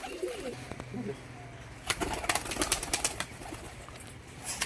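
Performing tumbler pigeons take off in a burst of rapid wing flaps and claps, preceded by soft cooing, heard outdoors at moderate distance.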